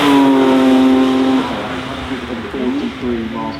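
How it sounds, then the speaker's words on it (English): A Porsche Taycan Turbo GT, the 900-horsepower electric version, gives a loud, high-pitched motor whine that holds steady and then shifts pitch and eases off as it moves. "This is the Porsche Taycan Turbo GT"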